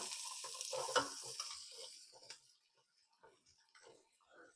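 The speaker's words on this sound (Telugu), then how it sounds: "ఆనియన్స్ కొద్దిగా బాగా వేగాలండి ఒక ఐదు నిమిషాలు ఆనియన్స్ని వేగనిద్దాం" Sliced onions frying in oil for a spicy South Indian gongura chicken, a strong close sizzle at first that fades quickly to a faint hiss with small bubbling crackles.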